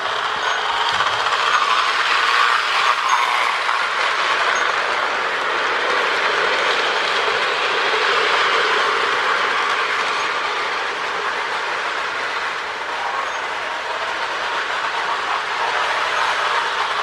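Lionel 1656 model train with a 6403B bell tender running on track, giving a steady, fairly loud whirring rumble with light clicking that continues throughout.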